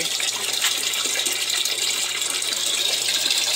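Water discharges through a small 500-litre aquaponics system with filter screen and sump, a steady close-up rush of flowing, splashing water that continues without break.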